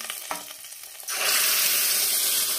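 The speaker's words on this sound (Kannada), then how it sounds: "ಈಗ ಒಗ್ಗರಣೆನ ನಾನು ಸಾಂಬಾರ್ಗೆ ಸೇರಿಸ್ಕೊತೀನಿ." Hot tempering (oggarane) with two Byadgi chillies is poured into a pot of village-style greens sambar, setting off a sudden loud, steady sizzle after a quieter moment of clinks.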